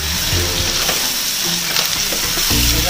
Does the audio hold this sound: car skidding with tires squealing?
no